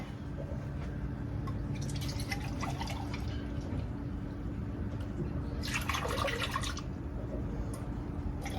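Whole milk poured into a crockpot for macaroni and cheese, soft splashing and dribbling in two short bursts over a steady low hum, fairly faint and close.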